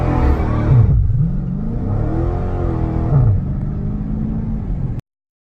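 A Dodge Challenger Scat Pack 1320 V8 revving hard with line lock engaged, loud and close, the engine note rising and dipping in two sweeping revs before cutting off abruptly.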